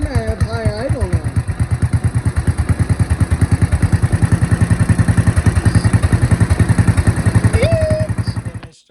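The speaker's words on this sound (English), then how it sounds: "And I have high idle now." A pulling tractor engine runs at high idle, a loud, close, rapid even chugging that holds steady before cutting off at the end, with a voice briefly heard over it.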